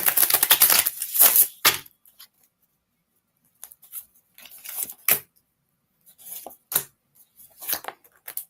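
Oracle cards are shuffled by hand in quick papery riffles and taps, a dense flurry at the start followed by short scattered bursts between quiet pauses, close and crisp.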